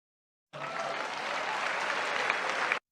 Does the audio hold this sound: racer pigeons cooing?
no